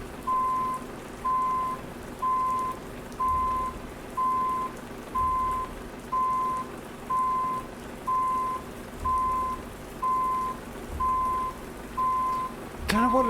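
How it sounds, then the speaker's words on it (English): A truck reversing in Euro Truck Simulator 2 gives a steady, evenly spaced electronic beep, about a dozen identical tones in a row over a low engine hum. "That's what I want to hear, the beeping."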